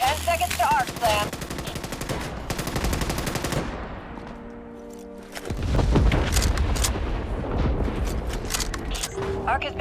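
Arc slam strike in the sci-fi shooter Starship Troopers: Extermination, a loud sustained barrage of booming, rapid gunfire-like blasts that drops briefly before a heavy second surge of explosive rumble.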